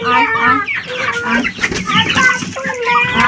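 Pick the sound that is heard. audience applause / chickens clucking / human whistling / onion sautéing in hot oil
chickens clucking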